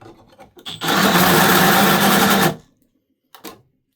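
A short burst of a cordless drill whirring steadily into metal for under two seconds, then stopping as the drill times out, followed by a brief faint click.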